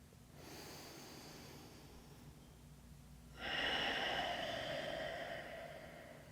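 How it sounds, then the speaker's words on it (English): Deep breathing during a glute and core strengthening workout: two slow, airy breaths close by, a softer inhale followed by a louder, rushing exhale, with no talking. "Take 3 deep breaths here."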